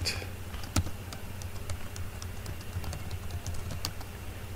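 Keys tap on a computer keyboard as a password is entered, a run of quick, irregular clicks over a low background hum, close and fairly soft, with no talk.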